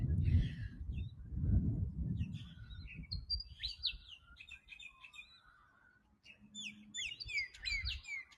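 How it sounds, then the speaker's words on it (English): Birds chirp and call from a tree above a lake on an early-morning walk, bright repeated tweets and short song phrases overhead, with low rumbling movement or wind noise underneath early on and no talking. "And I'm loving these birds up in the tree above me."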